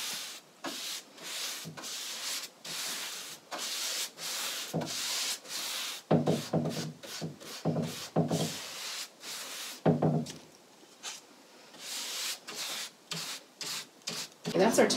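Paintbrush strokes spreading a second coat of chalk paint across a thrifted wooden cabinet top, a steady series of close, soft rubbing swishes back and forth with brief pauses between strokes.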